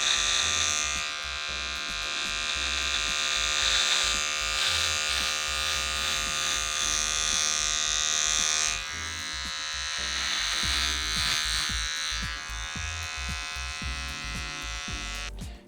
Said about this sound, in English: I would definitely get a trimmer rather than a clipper for this area here